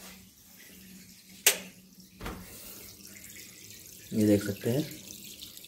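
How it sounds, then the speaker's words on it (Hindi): Water draining from an IFB front-loading washing machine during a blanket wash cycle gives a steady flowing, gurgling rush, broken by a couple of sharp knocks, while someone speaks briefly. "पानी ड्रेन हो रहा है"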